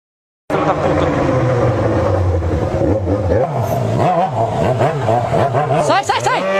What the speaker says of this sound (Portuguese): dá uma cortada de giro aqui.